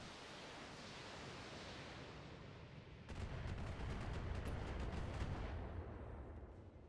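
LRM-20 missiles launch in BattleTech, a rapid volley of punchy whooshing bursts that rises suddenly out of a dense, hissing ambient roar and rumbles on for a couple of seconds before easing off.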